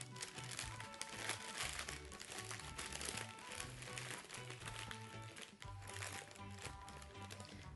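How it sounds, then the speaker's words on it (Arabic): Paper being crumpled and pushed into a paper bag while making a puppet: continuous crinkling and rustling close by, quite faint, with a steady low rhythmic background. "هيلا ورقة جعلكة، ودخلها بقلب الكيس"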